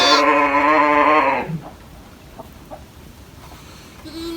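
A sheep bleats loudly and close by in a farmhouse barn among ewes and newborn lambs lying in straw, one long wavering call followed by quiet rustling and a faint second bleat at the end.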